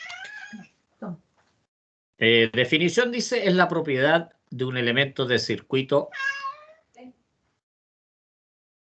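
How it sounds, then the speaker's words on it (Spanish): A house cat meows a few times in a room while a man gives a spoken lecture on electrical circuits close by, its cries partly heard between and under his talk. "Está mi gato por acá."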